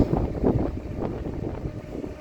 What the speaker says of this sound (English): You can hear the wind in the background.